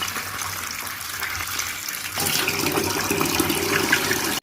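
Flattened rice being washed in water for chire polao: a soft trickle that swells after a couple of seconds into a louder running, splashing wash of water in a vessel, then stops abruptly.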